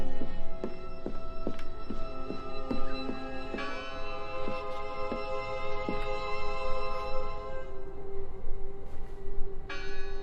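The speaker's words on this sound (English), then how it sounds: "I heard the bell." A tolling church-style bell rings repeatedly in the video game Draugen, a series of sharp struck tones with long ringing overtones, spaced irregularly over a low ambient background, fairly clear and with no speech.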